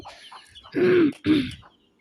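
A desi hen gives two short, throaty clucks in quick succession, close and clear against a quiet background.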